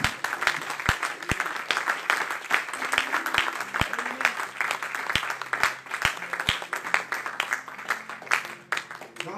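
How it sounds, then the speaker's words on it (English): A church congregation claps hands in praise during a Wednesday evening service, a dense steady patter of many hands with a few sharp louder claps standing out nearby, sustained throughout with voices faintly underneath. "I just want you to give the Lord a great big hand clap of praise"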